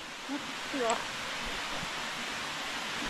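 The El Gran Zapanal cascade, fifth of seven mountain waterfalls, gives a soft, steady distant rush, with a faint voice breaking in briefly near the start.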